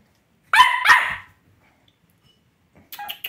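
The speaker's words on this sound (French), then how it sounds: "Dès qu'il est excité, il aboie." An excited dog named Oreo barks during play, two sharp close barks in quick succession, then a pause before a burst of shorter yips near the end.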